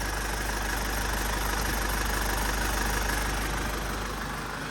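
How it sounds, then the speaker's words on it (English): A Mercedes W211 E-Class sits idling with its AC compressor engaged, giving a steady, even engine drone with a constant hiss throughout, heard up close and alone with no talking. "Right now, the AC compressor is definitely working."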